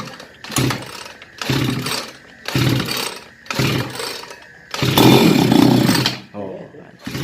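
A bicycle fitted with a grass-cutter engine revs in five loud bursts, each about a second long with brief pauses between them, and the last burst is held longer. People talk over the engine.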